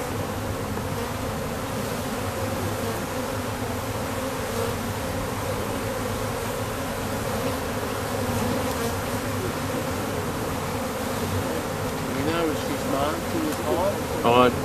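Honeybees hum in a dense, steady drone around an open hive of mixed-breed bees during a queen search, loud and close throughout, with people talking quietly over the buzzing.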